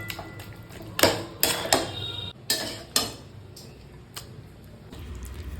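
Cooked taro greens being tipped out of a pan, with a series of sharp metallic clanks and scrapes of a utensil against the cookware, spaced irregularly, over a quiet kitchen background.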